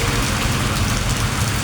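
Heavy rain pours down in a dense, constant roar of drops beating on surfaces, loud and unbroken throughout, with no talking.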